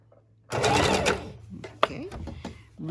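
A sewing machine stitches a neck bone pillow in one short, fast whirring run that stops abruptly, followed by a few light clicks and handling sounds.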